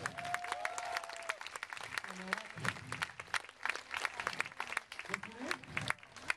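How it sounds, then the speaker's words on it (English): An audience applauds a street busker's show in 2011, a steady patter of many hands clapping at a fairly low level, with voices talking over it. "Give him a round of applause"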